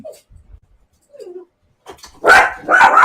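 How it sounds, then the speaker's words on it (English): A dog barks loudly in a short burst of rough, close barks near the end, after a brief whine and some quiet shuffling. "But sorry for him barking."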